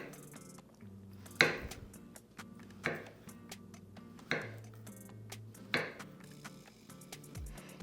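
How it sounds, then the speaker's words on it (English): A knife cuts bananas diagonally into quarter-inch slices on a board, giving about five separate soft chops spaced roughly a second and a half apart, close and quiet. "We are going to slice these on the diagonal about 1/4 inch thick."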